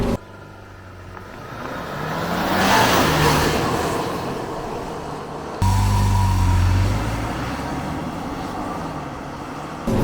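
A Ford Bronco Everglades with the 2.3 four-cylinder launches hard from about 3,000 rpm and accelerates, its engine swelling loudly up through the revs, dropping briefly at a gear change, then climbing again under rising road and wind roar.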